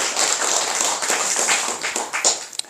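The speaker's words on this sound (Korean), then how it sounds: "박수 한번 보내겠습니다" A temple congregation at a Buddhist dharma service claps together in a steady burst of applause that thins into scattered, separate claps by the end, with no speech.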